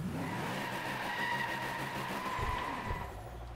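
A Koenigsegg One:1 brakes hard in Driveclub, a steady engine roar with a thin tire squeal running above it, then a low thump near the end as the car slows. No voices.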